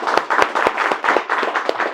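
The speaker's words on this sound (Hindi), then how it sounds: "एक बार सुंदरम के लिए जोरदार तालियां" Steady burst of applause for a student at a repair-training institute, many hands clapping together in a dense, continuous patter with a few sharper claps standing out, fairly close and without speech over it.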